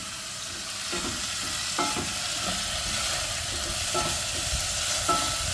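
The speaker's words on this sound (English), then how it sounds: "let me stir up our onion and garlic" Onion and garlic fry quietly in a pot while a spoon stirs, giving a soft, steady sizzle broken by periodic light scrapes and taps against the pot.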